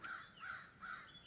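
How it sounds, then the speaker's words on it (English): Crows caw outdoors, three harsh calls in steady rhythm, faint and distant, with no one speaking. "Oh, got some birds out there."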